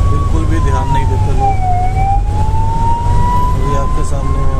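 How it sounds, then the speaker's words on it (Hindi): An ambulance hooter sounds in busy traffic, one steady wailing tone that dips and rises again, loud and near over the low hum of vehicles. "एम्बुलेंस का हूटर बज रहा है"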